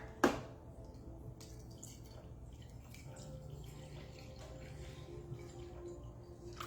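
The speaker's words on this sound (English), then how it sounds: "So it says I need to add 400 grams of filtered water." Filtered water poured into a bowl of flour and sourdough starter for bread dough, opening with a sharp splash, then a steady low, quiet trickle and drip running close by for several seconds with no talk.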